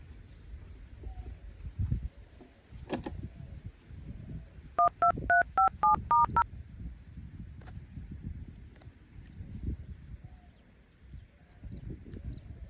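A phone number is keyed in as a quick run of about seven touch-tone beeps in the middle of an otherwise quiet room, with soft handling bumps before and after.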